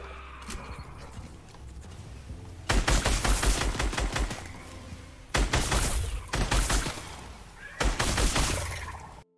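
Rapid SCAR rifle bursts in a zombie-shooting video game, three long stretches of dense automatic fire separated by brief pauses, loud and close with no speech.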